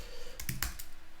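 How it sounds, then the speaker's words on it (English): A few quick keystrokes on a computer keyboard during a web app hacking session, with faint, close clicks in a brief cluster over quiet room tone. "If I can type."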